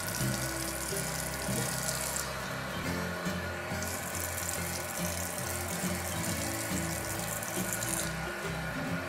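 Steady stream of running water pouring continuously from a hose or tap onto potted plants, soaking the soil, with a faint low hum underneath and no voices.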